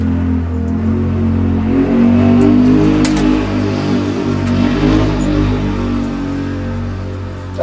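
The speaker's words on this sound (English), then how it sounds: "My neighbor's riding his Can-Am." A neighbour's Can-Am off-road vehicle rides past, its mid-pitched engine rising and falling loudly as it nears and then fades slightly, alone without talk.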